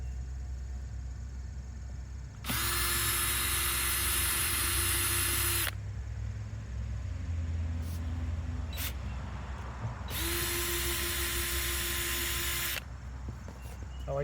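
Power drill backing screws out of a septic tank lid, two close, loud whirring runs of about three seconds each, separated by quieter handling noises.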